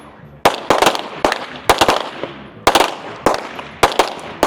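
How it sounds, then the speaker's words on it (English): Around ten sharp rifle and pistol shots ring out at irregular intervals on an outdoor shooting stage at an elite multi-discipline fitness and shooting regional competition. Each loud crack fades quickly. "they have 10 shots with their rifle freestanding and then 10 shots with their pistol freestanding"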